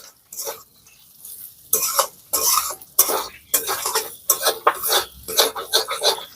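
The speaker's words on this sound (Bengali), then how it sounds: "মশলাগুলো দেওয়ার পর আমি খুব ভালো করে একটু ভেজে নিয়েছি" Spices frying with asafoetida in a pan for a cauliflower samosa filling, bursts of sizzling and spoon-scraping stirs coming in irregular loud strokes with short pauses between them, close and clear.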